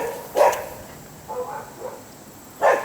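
A dog gives two short, sharp barks roughly two seconds apart, with a softer whimpering sound between them, over a quiet indoor background.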